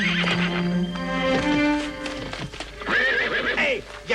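A horse neighs loudly and close by, a long shrill whinny with wavering pitch, followed by snorting and hoof clip-clop, then a second high whinny near the end.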